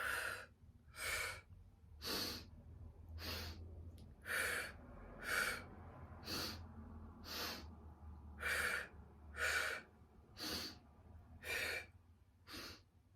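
Rhythmic breathing in and out during a kundalini pranayama exercise for bad backs: about a dozen close, breathy pulses at a steady, even pace, with no talking.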